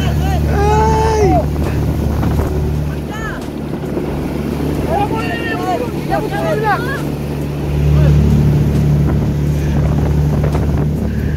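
Wind and water rumble around a motorboat pounding through big storm waves off Batangas, with steady broadband roar swelling near the end; excited voices shout and exclaim over it throughout.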